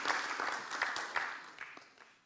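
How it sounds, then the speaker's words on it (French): Scattered applause from a conference audience at a talk on African soft power, individual claps standing out over a thinning patter that fades quieter toward the end. "Merci, vous pouvez applaudir."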